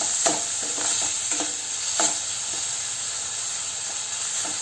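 Steady frying sizzle and hiss from a pan, with a few scraping stirs of a utensil scattered through it.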